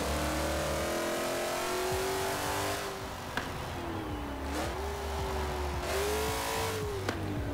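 A car engine in Forza Horizon 4 revs and surges continuously, its pitch climbing, dipping and climbing again through gear changes, loud and close throughout, with no voices.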